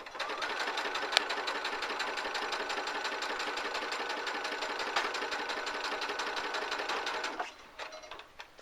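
A sewing machine runs steadily while stitching a fabric glasses case, a fast continuous whir that stops near the end.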